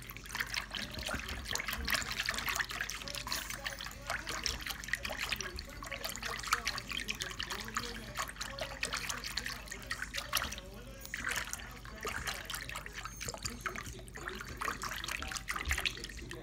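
Water pours and trickles onto slime in close, quiet detail, producing wet squelches, drips and gurgling splashes that continue steadily with small bursts.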